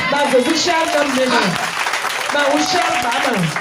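A church congregation claps loudly and continuously at a Sunday service, while a strong voice calls out over the applause.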